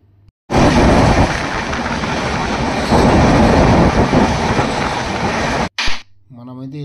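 A train runs along the rails on the Yerraguntla to Patnitop route near Udhampur, a loud, steady rumble with rattling wagons filling most of the clip, broken by a brief dip near the end, after which a voice speaks.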